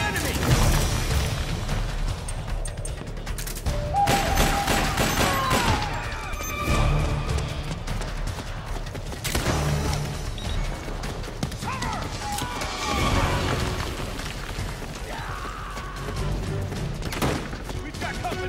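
Gunfire and crashing impacts from a Metal Gear Solid 4 battle, steady and moderately loud with scattered booms, layered under frequent shouted soldier commands.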